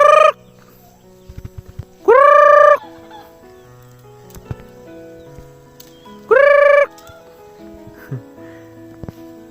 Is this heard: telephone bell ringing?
no